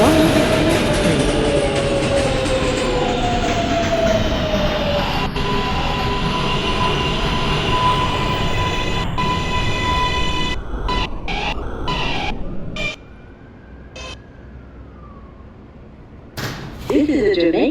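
A New York City Z skip-stop subway train bound for Jamaica Center rides along with a steady loud rumble, whining motor tones and rail clatter, easing off near the end before surging again.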